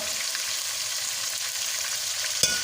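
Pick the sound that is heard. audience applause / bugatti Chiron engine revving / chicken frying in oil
chicken frying in oil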